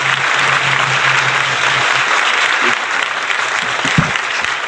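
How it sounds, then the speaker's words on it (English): Audience applause, a dense steady wash of clapping from a crowd, loud and sustained throughout, with a brief low murmur of voices near the end. "please give a big round of applause for Mitchell"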